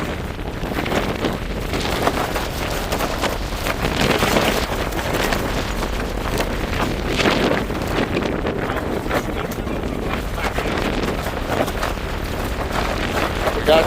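Strong windstorm gusts roar across a lake, buffeting the microphone in a continuous loud rush for the whole stretch, with a possible faint voice buried underneath.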